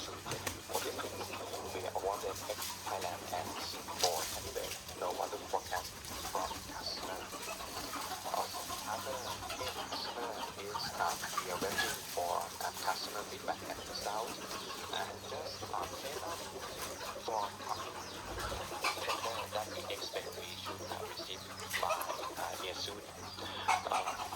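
Chickens being fed cluck and coo continuously against a busy outdoor background, with occasional voices mixed in.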